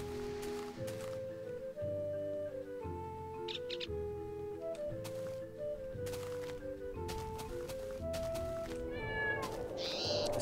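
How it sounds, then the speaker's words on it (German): A cat in Minecraft with the Mo' Creatures mod meows repeatedly, several distinct tonal mews spaced across ten seconds, fairly clear against quiet game background with occasional clicks and rustle. "Ach, da ist unsere Katze."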